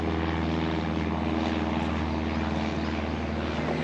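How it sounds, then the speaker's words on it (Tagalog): Aircraft engine and propeller drone from planes and helicopters passing overhead near Subic, a steady, loud continuous rumble with no talk. "maraming eroplano dito and helicopter"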